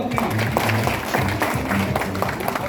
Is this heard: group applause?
yes